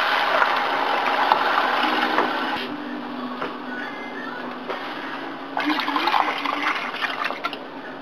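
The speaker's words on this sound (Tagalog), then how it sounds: "Lagyan natin yung water." Water pours into a pot of arroz caldo with chicken and rice, a steady close rushing gush that eases off midway and then surges again as more is added.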